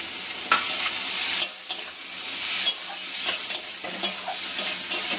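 Chopped tomato and beet frying in a pan while being stirred, a loud close sizzle broken by several scraping strokes and short pauses, without any talking.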